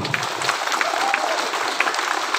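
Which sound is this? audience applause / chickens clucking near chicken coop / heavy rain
audience applause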